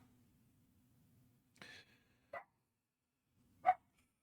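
Agitated dogs let out three brief, scattered barks during a thunderstorm, sounding moderately distant and spaced a second or more apart against a quiet background.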